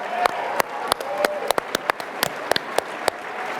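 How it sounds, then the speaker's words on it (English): A conference audience claps for a panel, with scattered, separate hand claps standing out sharply over a thinner patter of applause and low crowd murmur. "Could I hear a round of applause for all the young conservatives that are here?"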